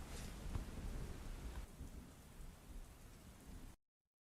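Steady heavy rain with a low rumble of thunder, a dense even hiss that fades and then cuts to silence.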